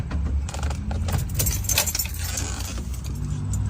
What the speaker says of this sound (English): Now, we have quite a few keys, so let me open the trunk and I'll show you inside.